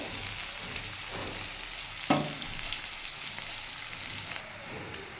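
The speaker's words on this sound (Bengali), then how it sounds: "আমি এটা একটু ভালো করে একটু ভেজে নেব উচ্ছেটা আর পটলটা" Steady sizzling of bitter gourd and pointed gourd frying in oil, with occasional clatter of stirring, continuous and fairly close with no talking.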